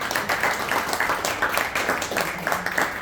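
A seated audience at a religious discourse claps together in sustained, dense applause, steady and fairly loud throughout.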